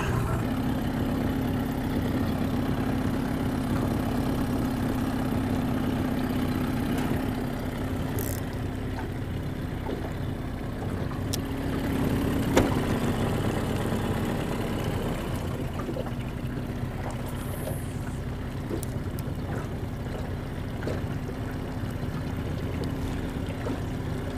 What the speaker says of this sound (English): Did I leave my motor running here?